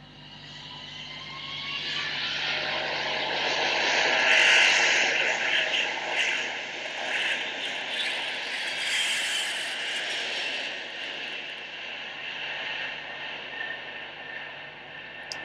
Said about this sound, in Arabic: صوت طيارة